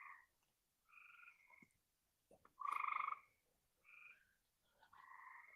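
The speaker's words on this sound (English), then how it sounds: "There's a lot of peep frogs. I don't know if you can hear the peepers." Frogs call from an old backyard pool with some water left in it, several short trilling croaks in separate bursts, one louder and closer, the others fainter, set against quiet night air.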